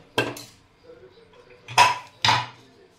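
Cooked masala rice with green peas being stirred in a pot, three sharp metallic clanks of a spoon against the pot with soft scraping between them, close by.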